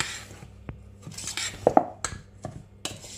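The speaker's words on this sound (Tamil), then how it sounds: "இப்போ இதையும் இதோட சேர்த்து இந்த மாவோட சேர்த்து ஒருக்கா நல்லா மிக்ஸ் பண்ணிடலாம்." Flour being mixed with crushed cardamom in a bowl for Jaffna-style ariyatharam, with a spoon clinking and scraping against the bowl in scattered close knocks and stirs.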